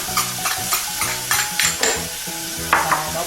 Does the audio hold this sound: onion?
yes